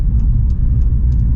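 A Jeep heard from inside while driving gives a loud, steady low engine and road rumble, with a few faint high ticks over it and no speech.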